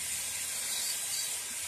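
A steady hiss of aerosol cleaner sprayed onto a Tecumseh HH120 carburetor from a Bolens Husky 1253 garden tractor, continuous and close for under two seconds.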